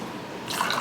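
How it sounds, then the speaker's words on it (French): Two ounces of water poured into a cocktail at home, a brief splashing pour that begins partway through and runs to the end, close and moderately loud with no talking. "Je vais ajouter 2 onces d'eau."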